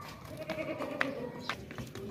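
A healthy, plump female goat of the Makhi Cheeni dairy breed bleats in short calls over a busy livestock-market background, fairly close, with no one speaking during the clip.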